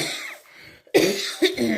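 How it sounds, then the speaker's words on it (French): A person coughs up close, a couple of harsh bursts after a brief pause. "Je commence à tousser."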